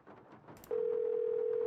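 A steady telephone dial tone in the Nancy Drew game Legend of the Crystal Skull switches on partway through, following a short stretch of game ambience and lasting unbroken to the end.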